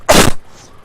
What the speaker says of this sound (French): Pour cet éternuement.